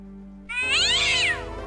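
A single loud, drawn-out cat meow in the Indiana Jones and the Fate of Atlantis adventure game, rising and then falling in pitch over about a second, heard clearly on its own over a low steady background tone.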